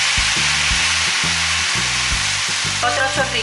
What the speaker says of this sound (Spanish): A continuación le vamos a poner un chorro de salsa de soya